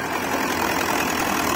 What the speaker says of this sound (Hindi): तो भाई ये देख सकते हो ट्रैक्टर स्टार्ट होकर पीछे का गियर भी लग गया